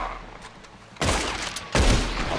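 Gunfire in Red Dead Redemption 2 during a hunt: two sudden loud blasts about a second apart, each leaving a long, noisy rumbling tail after quiet ambient game sound.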